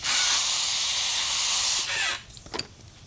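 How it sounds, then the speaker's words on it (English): A polisher set to speed 5 or 6 spins wet polishing pads dry, giving a loud, steady whooshing hiss for about two seconds before cutting off, followed by a few faint clicks. "I just put them on the polisher, put it on speed 5 or 6, literally let it ring out for like 15 seconds."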